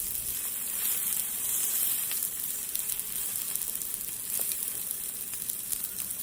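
Lobster tail sizzles steadily on a hot lava rock, a continuous close, bright hiss with faint crackles and no voices.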